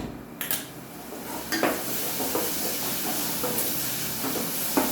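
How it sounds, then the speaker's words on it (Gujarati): Tomatoes sautéing in a pan on a gas stove, a steady loud sizzle and hiss throughout, punctuated by a few scraping clinks of a spoon stirring against the pan, no talking. "હવે ગેસ ચાલુ કરી અને ટામેટું સસડાવી લેવાનું"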